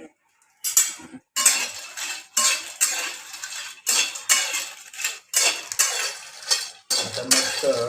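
Whole spices and cardamom are dry-roasted on a hot tawa, a spoon or spatula scraping and rattling them in about a dozen brisk, close strokes with short pauses between.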